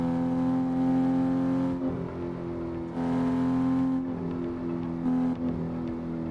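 Car engine in the Assetto Corsa PC driving game on the Shutoku Revival Project highway map, a loud droning motor tone that revs up and drops with repeated gear shifts, alone.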